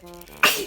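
A single sharp sneeze bursts out close and loud after a moment of faint background voice.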